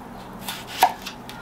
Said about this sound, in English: I'm sure by now you're bored of me chopping away